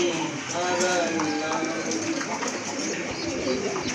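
Many pigeons in a seller's collection coo continuously at close range, layered over a busy, noisy background as people talk.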